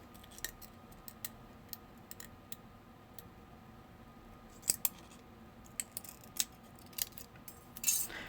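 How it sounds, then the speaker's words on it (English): Scissors snip through a strip of material for mini seat-belt buckles on a small-scale build, giving a few faint, scattered crisp cuts against a quiet room background. "Cut you a strip out."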